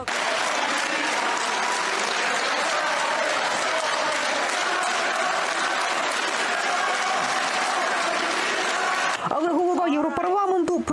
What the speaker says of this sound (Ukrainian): Вони аплодували та намагалися заспівати Бела Чао гімн італійських революціонерів.